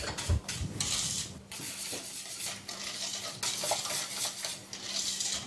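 Whole eggs and sugar are whisked briskly in a bowl for a spiced mirabelle Christmas yule log, giving rapid scraping, clinking strokes in bursts with brief pauses.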